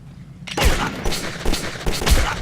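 Gunfire bursts out in the video game Metro 2033: a sudden loud onset followed by several booming shots in quick succession, close and heavy.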